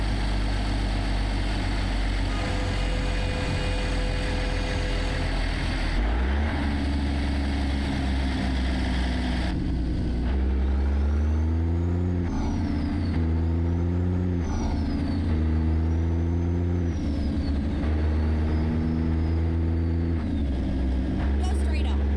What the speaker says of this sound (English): We're in the Peterbilt 362 Cabover.